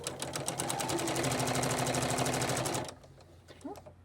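A sewing machine stitching a firefighter coat runs in a fast, steady, loud mechanical whir for about three seconds, then stops, followed by quiet handling sounds and a brief voice.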